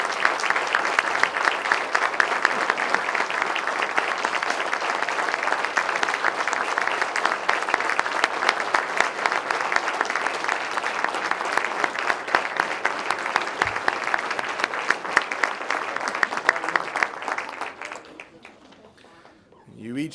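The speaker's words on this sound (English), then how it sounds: "please join me in one last round of applause for our inductees" Audience at a college sports hall of fame ceremony applauds its inductees, a dense sustained clapping that holds steady for most of the stretch before tapering off near the end.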